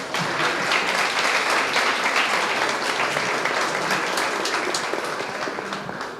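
Sustained applause from a university conference audience fills the room, dense and even from start to finish before fading slightly at the end.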